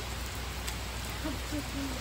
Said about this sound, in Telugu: ఇప్పుడు వర్షం కురుస్తుంది.